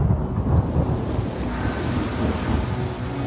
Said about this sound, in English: The clouds opened up overhead, bringing sheets of water down onto the streets